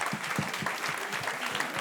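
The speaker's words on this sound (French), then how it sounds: "On les applaudit" Comedy club audience clapping at the Jamel Comedy Club, a dense, steady wash of applause from a crowd filling the room, loud and sustained without pause.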